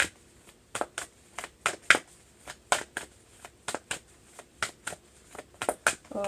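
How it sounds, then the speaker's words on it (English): Tarot cards being shuffled by hand, a soft, close run of crisp riffling bursts repeating at an uneven, quick rhythm in an otherwise quiet room. "We're going to shuffle these up real quick."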